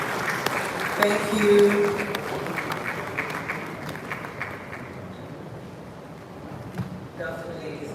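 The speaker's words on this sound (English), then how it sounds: "Can we give her a round of applause, please?" Conference audience at the Africa Retail Conference 2024 applauds a panel moderator with moderate, steady clapping that slowly thins out, while a voice briefly speaks over it.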